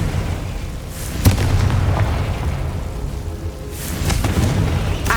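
A Confringo fire spell bursting in Hogwarts Legacy, with a sharp crack-like blast followed by a sustained rumbling roar, and a second swell of blast noise near the end.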